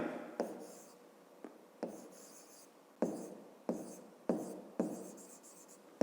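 Pen strokes on paper while writing out a fifth-grade geometry solution, a steady run of close scratching with sharp taps at the start of each stroke, repeating irregularly without any talk.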